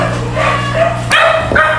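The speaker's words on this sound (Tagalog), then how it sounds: "Pasensya na guys, maingay yung mga aso." Several dogs barking outside, close and loud, with a rapid run of overlapping barks and yips and no talking.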